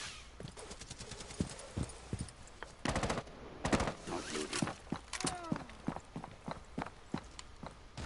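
Gunfire in a multiplayer shooter game, with sharp shots crackling in irregular bursts alongside footstep-like clatter and quieter game sounds; a teammate's shot hits the player from behind.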